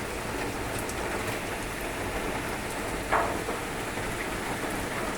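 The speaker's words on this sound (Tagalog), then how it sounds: "Pero ngayon talaga magdamag na ulan." Heavy rain pours down in a dense, continuous hiss, steady and enveloping, with a faint brief thump partway through.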